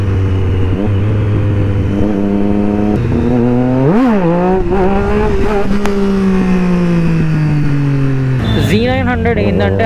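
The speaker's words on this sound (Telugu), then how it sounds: "Z900 ఏంటంటే హై కంప్రెషన్ ఇంజన్ కాబట్టి సౌండ్ స్మూత్గా రాదు, కొంచెం గ్రంటీ గ్రంటీగా వస్తుంది అనమాట" A Kawasaki Z900 motorcycle's high-compression engine revs loudly and close during a night ride in Hyderabad. Its gruff tone rises and falls through several throttle blips and gear changes, with a voice faintly underneath.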